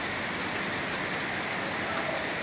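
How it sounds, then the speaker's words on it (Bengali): Rain falls steadily over Khilgaon in Dhaka, a dense, even hiss of water with no pauses, close and continuous throughout. "ঢাকা অনেক বৃষ্টি হচ্ছে।"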